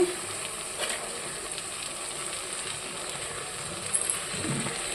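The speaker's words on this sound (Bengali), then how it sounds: "দিয়ে দিলাম লঙ্কা গুঁড়ো ভালো করে কষে নিয়েছি" Chilli powder frying in a pan gives a steady, quiet sizzle throughout, with a few faint clinks of stirring.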